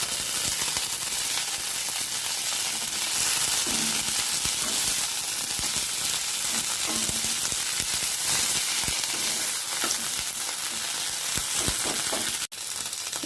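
Fresh coriander leaves frying with green chillies in a pan, a constant close sizzle and crackle with occasional stirring scrapes and a sharp knock near the end.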